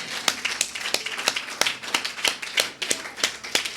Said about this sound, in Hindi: क्या मैं और आप एक बार खुदावंद के लिए तालियां बजा सकते हैं?